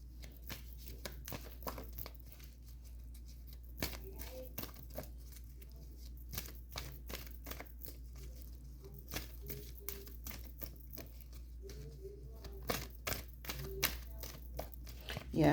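Tarot cards being shuffled by someone standing up, a soft, steady run of papery riffles and flicks carrying on throughout at low level, with no talking.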